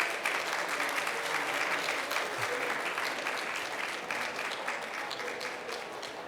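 An audience at a ceremony for US EXIM Bank loan letters of intent gives the speakers on stage a steady round of applause, dense and continuous throughout at moderate distance.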